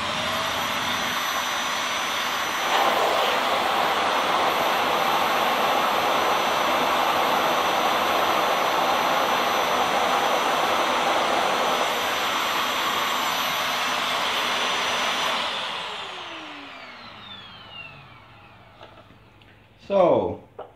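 A vacuum cleaner fitted with a turbo nozzle roars loudly and steadily while picking up wax particles, then winds down with a falling whine and ends in a brief clunk near the end.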